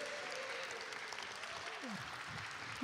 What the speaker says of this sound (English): round of applause as they go next door.